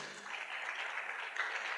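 Audience applause for a panel of speakers at an alternative-protein conference, a steady broadband wash of clapping from a crowd that holds evenly for nearly two seconds.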